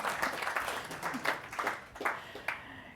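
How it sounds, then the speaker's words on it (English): A modest audience at a corporate investor briefing claps, a light scatter of hand claps with uneven pulses that thin out toward the end, fairly close. "Feel free to applaud."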